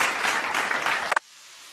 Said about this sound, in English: I need to clap for you for that particular you highlight.